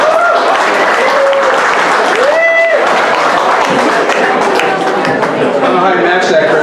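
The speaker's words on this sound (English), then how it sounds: "give a round of applause to Assemblyman Bill Conrad" Crowd clapping for Assemblyman Bill Conrad at a mayoral campaign speech, a steady wash of applause under which a few tonal whistles or cheers rise briefly, loud and continuous throughout.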